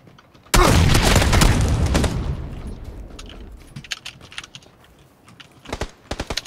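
Grenade explosion in PUBG Battlegrounds during a squad match goes off as a sudden loud boom that decays over a couple of seconds, followed by scattered keyboard clicks and faint gunfire.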